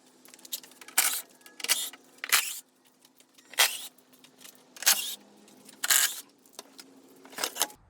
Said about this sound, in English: we need to remove some 8mm screws that are around here